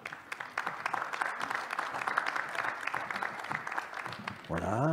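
Conference audience clapping steadily and fairly loudly for several seconds, with a voice starting to speak over the tail end.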